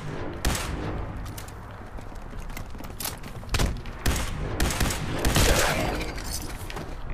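Gunfire in Fallout 4: repeated loud shots in irregular bursts, sharp cracks with one cluster near the end, over a steady game soundscape, no talking.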